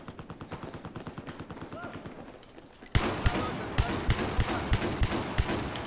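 Gunfire in Battlefield 4: a rapid run of automatic shots, quieter at first then louder and closer after a sudden jump, with someone talking over the bursts.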